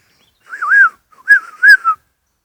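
A man whistles short, warbling phrases that imitate bird calls, two close bursts with a brief pause between them, alone in a quiet outdoor setting.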